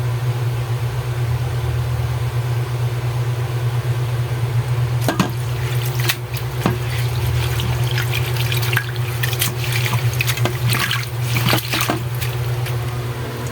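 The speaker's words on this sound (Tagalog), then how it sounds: "Tapos manlawan mo pa rin yan siya ng tubig." Noodles are rinsed under running water, a steady close hiss of flowing tap water with scattered splashes and drips throughout, no voices.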